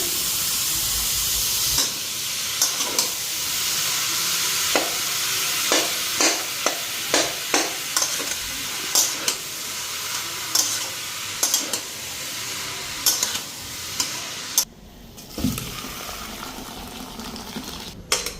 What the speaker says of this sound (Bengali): কড়াইটার মধ্যে বাঁধাকপি করতেছি